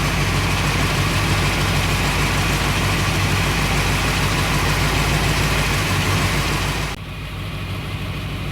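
An AMC Jeep Cherokee engine idles at a steady, loud, close rumble, then the sound drops sharply near the end to a quieter hum.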